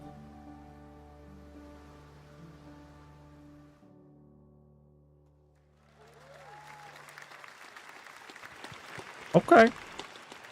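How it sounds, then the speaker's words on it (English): A live audience at a video game showcase gives a small, scattered patter of applause that rises after a stretch of music, with a few louder claps near the end and people talking over it. "Tiny little claps."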